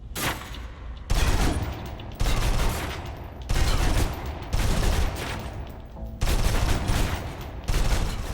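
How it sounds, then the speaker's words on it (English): A submachine gun empties its full magazine in the video game Alpha Protocol, loud sustained bursts of rapid gunfire split by brief pauses into about six strings, with no talking. "Now, let's move on to the submachine gun. Now let's empty the clip."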